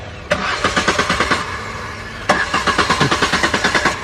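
A car engine cranks twice without catching, each attempt a loud burst of rapid, rhythmic starter churning that stops without firing, with a short pause between the tries.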